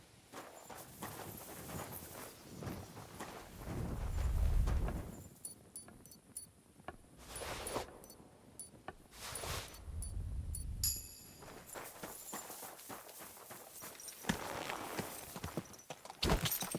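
Horse hooves in a video game clip-clop in an uneven walking rhythm, moderately near, with rustling movement and low rumbles around them, no talking.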